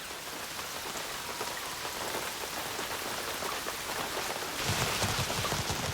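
Rain pours steadily on rainforest leaves, a dense unbroken hiss of drops that grows louder near the end, with no voices.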